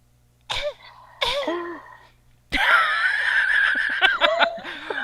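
A person imitates a cat coughing with a couple of short, breathy vocal hacks followed by a longer stretch of raspy, squeaky throat noises, close and fairly loud in a quiet room.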